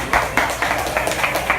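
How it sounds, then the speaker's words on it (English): An audience at the Brain Aid Fest music benefit applauds, with a run of fairly loud, evenly spaced claps close by that blur into a brief, steady patter. "Please give Brianna a big round of applause"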